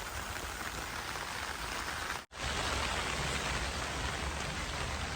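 Steady rain falls outside a car driving past farm fields in Korea, a dense, even hiss that holds for the whole stretch apart from one brief dropout, with no talk.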